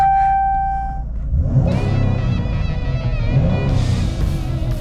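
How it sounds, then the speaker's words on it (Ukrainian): A 3.6-litre car engine cranks and catches, then settles into a steady, even idle close by. "Заводиться автомобіль взагалі без ніяких проблем."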